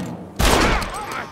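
A single loud gunshot from a revolver in the Western video game Red Dead Redemption, a sharp blast followed by a ringing, echoing tail, with game ambience around it.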